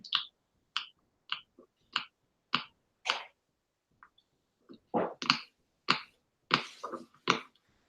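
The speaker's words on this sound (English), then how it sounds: "cracking his knuckles into the microphone" Knuckles crack right against a microphone, a series of sharp, close pops and clicks in irregular bursts with short pauses between, loud and dry with no talking.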